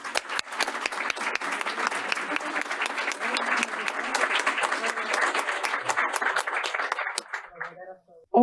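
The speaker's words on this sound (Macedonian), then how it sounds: "И еден голем аплауз за сето она што таа го овозможила." An audience at an awards evening for successful women managers breaks into loud sustained applause, dense clapping for about seven seconds before fading out, followed by a brief voice.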